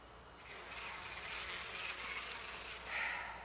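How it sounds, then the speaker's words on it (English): Murder bees from the horror game Death Mark make a steady, droning insect buzz that runs the whole time. It is fairly quiet, swells slightly near the end and has no voices over it. "Murder bees."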